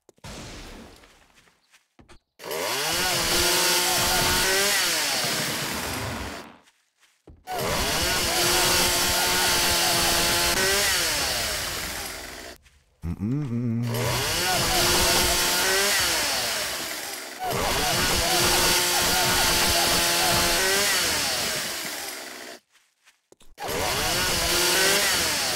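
Chainsaw cutting down trees in 7 Days To Die: four long bursts of loud, close revving saw noise separated by brief quiet gaps, the engine pitch wavering as it bites through wood.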